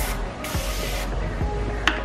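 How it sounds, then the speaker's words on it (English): Two quick hissing bursts of Kristin Ess rose gold temporary hair tint spray close by, the second longer, with faint background rustle and a small click near the end. "So it just comes out like a spray."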